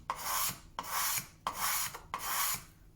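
A card scraper is drawn across a wooden surface in four separate long strokes, each a loud, bright rasping scrape, with short pauses between strokes as fine shavings come off the wood.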